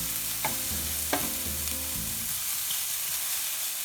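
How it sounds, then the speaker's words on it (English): Food is stirred in a hot pan on a stove element, giving a steady low sizzle with a few sharp scraping clicks from the utensil against the pan. No one speaks. "Couple more stirs."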